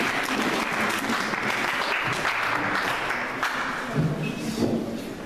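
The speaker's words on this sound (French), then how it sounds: "Acclamons très fort pour le Seigneur." Congregation at a church seminar clapping and cheering together, a steady dense wash of applause filling the room, loud and sustained throughout with a few thumps near the end.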